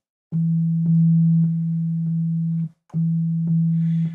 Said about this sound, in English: this one starts with the fundamental only, the sine wave